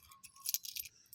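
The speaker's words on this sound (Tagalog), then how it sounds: "May nagtapon po ng barya dito sa may basurahan" Coins found in a trash bin jingle briefly in a quick, bright metallic shimmer, close and quiet, lasting about a second with no talk.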